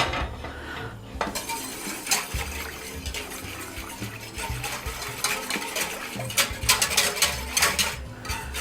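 A whisk stirs milk in a metal pot, making close, continuous scraping, clinking and sloshing with sharper knocks against the pot.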